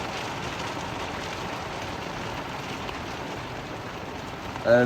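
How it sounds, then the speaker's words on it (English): Steady rain starting to fall outdoors, a dense, even hiss of drops on surfaces continuing throughout at moderate volume, with a brief louder bump at the very end. "Sorry about all the noise, it is just starting to rain"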